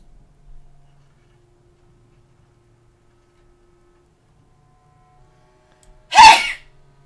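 A single sharp human sneeze bursts out near the end, close and fairly loud, after several seconds of near silence with faint background hum.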